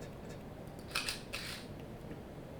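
A camera shutter firing at a quarter-second exposure during tabletop studio photography, a couple of soft mechanical clicks close by, with a short gap between them, in a quiet room.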